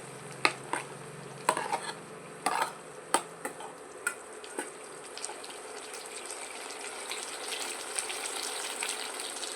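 Garlic and a cinnamon stick sautéing in a pan for a jackfruit curry, a soft steady sizzle with several sharp spatula clinks and scrapes early on, then a continuous hiss.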